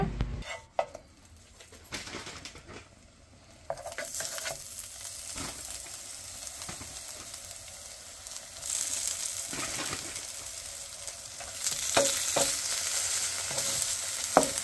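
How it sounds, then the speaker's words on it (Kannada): A Morningstar spicy black bean patty sizzles in oil in a pan, a soft crackle that swells louder partway through, with occasional clinks and scrapes of a utensil and faint birdsong in the background. "ಎಣ್ಣೆ ಹಾಕಿದ್ದೀವಿ, ಇದ್ರ ಮೇಲೆ ಇವಾಗ ಪ್ಯಾಟಿ ಹಾಕ್ತೀವಿ"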